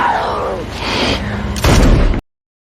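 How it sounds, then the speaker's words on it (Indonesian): A single loud gunshot from the film Zombieland 2 bursts out abruptly near the end, preceded by spoken dialogue and cut off sharply into silence. "Dan Columbus akhirnya menembak Madison."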